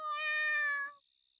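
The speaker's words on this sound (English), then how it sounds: "we hear a tiny meow from inside" A single clear, tonal meow from a cat in a video game, lasting about a second, bright and close, followed by a faint steady high tone.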